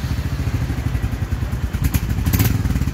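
A Royal Enfield Hunter 350 idles nearby, its exhaust giving a loud, steady, low-pitched thump with rapid even pulses throughout and no talking.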